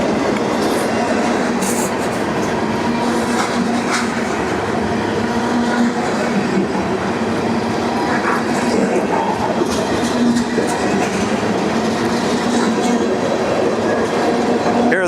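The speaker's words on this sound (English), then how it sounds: "The trains coming out of the south end of Atkinson Yards here in Madisonville" A train rolls out of the south end of Atkinson Yards in Madisonville, Kentucky, with a steady loud rumble, clattering wheels and occasional sharp squeals and clanks throughout.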